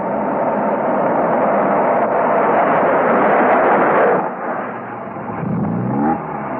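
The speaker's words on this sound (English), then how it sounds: "Mrs. Peel parked the car." A car drives up to a country residence and parks, its engine droning loudly and steadily before the sound drops away as it stops, followed by a brief lower rumble.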